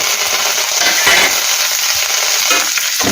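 Green chillies and curry leaves hit hot oil, producing a loud, dense, close-up spattering sizzle that crackles continuously with no voices.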